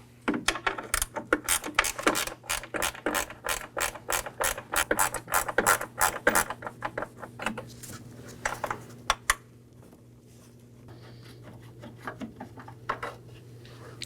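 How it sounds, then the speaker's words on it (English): A wrench ratchets out a 10mm bolt on the windshield washer fluid reservoir of a 2018-2024 Chevrolet Equinox, making rapid close metallic clicking in bursts that thins to sparse ticks. "locate this 10mm bolt. We'll remove that now. I'll be using a wrench."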